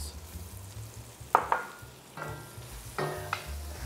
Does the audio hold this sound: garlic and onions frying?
yes